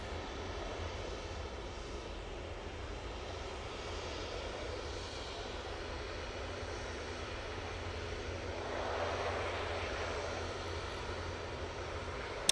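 An ATR 72 turboprop airliner arriving from Guernsey, its engine drone steady and moderately distant, swelling a little louder toward the end with no talk over it.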